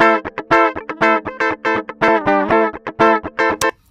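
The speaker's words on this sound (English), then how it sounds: "we can hear some distortion already" Electric guitar run through a boosted DI box, a loud distorted tone playing a quick choppy rhythm of short stabbed chords and notes with dark, fat, full harmonics, no voices.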